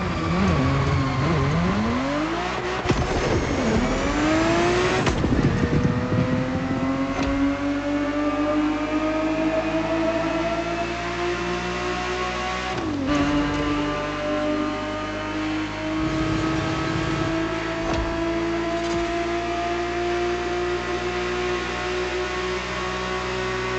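A Ferrari 365 GTB4 engine races in The Crew Motorfest, revving loud and close with rising and falling pitch through repeated gear shifts, sustained and unbroken throughout.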